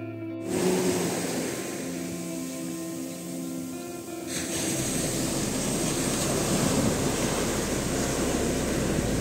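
Sea waves at Gopalpur beach roll in as a continuous broadband wash of surf mixed with wind buffeting the microphone, with a steady low drone present through the first half.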